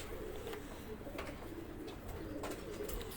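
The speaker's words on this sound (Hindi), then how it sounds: "ये दोनों कबूतर देखिए" Pigeons coo softly on a rooftop, low repeated throaty calls at close range with light background noise and no talk.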